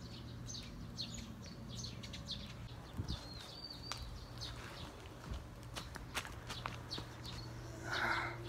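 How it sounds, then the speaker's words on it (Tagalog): Birds chirp and tweet outdoors on a relaxing morning, with scattered short calls over a steady low hum and faint rustling and footstep-like sounds throughout. "Maririnig niyo mga huni ng ibon."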